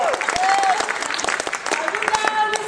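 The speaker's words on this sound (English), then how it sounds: "You can clap now." A high school theater audience claps for a performer billed as a Shakespearean tragedian during a stage show, steady applause filling the room with dense, fast overlapping claps and a few brief whistles or vocal sounds mixed in.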